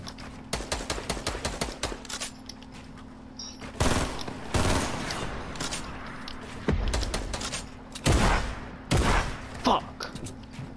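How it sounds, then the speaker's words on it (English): Automatic gunfire rattles through a Fortnite squads match, with rapid bursts of shots early on and then several louder, heavier volleys and single blasts spread across the stretch, close and sharp, with no words spoken. "With all them shots, you see that, Mike?"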